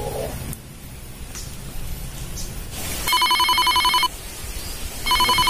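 A telephone rings in two loud bursts of electronic trilling over steady background hiss, the second burst starting about two seconds after the first ends.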